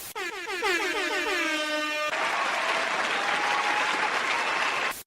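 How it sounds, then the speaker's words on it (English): An inserted applause sound effect begins with a blaring air horn sounding a few repeated blasts, then gives way to a loud burst of crowd clapping and cheering that runs steadily to an abrupt cutoff. "Got do a little clapping sound here."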